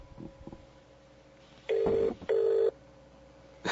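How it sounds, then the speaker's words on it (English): Phone ringing through a loudspeaker, two loud, steady electronic ring bursts after some faint clicks and handling noise, close and clear, with no talking. "Oh, it's ringing."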